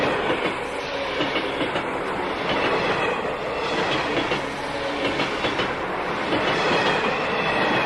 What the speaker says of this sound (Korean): 칙칙폭폭, 칙칙폭폭, 쭈쭈. 쭈쭈 트레인 소리예요. 기차 소리예요.